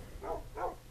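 Dog barking in the Minecraft video game, two short clear barks in quick succession, moderately loud against a quiet background.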